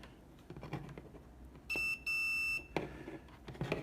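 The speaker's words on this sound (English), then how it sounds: "we're going to hook up our ohm meter and we're going to use our continuity beep" An ohmmeter's continuity beeper sounds while a mass air flow sensor wire connection is tested: two loud, steady high-pitched tones, a short one and then a slightly longer one after a brief gap, set against quiet handling clicks and rustle.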